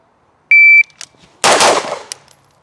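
A single Atlas Erebus pistol shot, preceded by a steady electronic shot-timer beep; the sharp, loud crack follows about a second after the tone, with a brief decaying tail and a faint click afterward.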